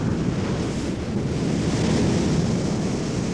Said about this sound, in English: There's enough energy in waves like this to carry off hundreds of tons of material on every tide.